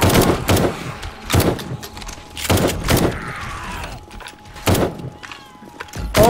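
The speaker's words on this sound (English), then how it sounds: "Very powerful shotgun." Heavy shotgun blasts boom in the video game 7 Days to Die, about five loud, close shots spaced roughly a second apart with brief mechanical clatter between them.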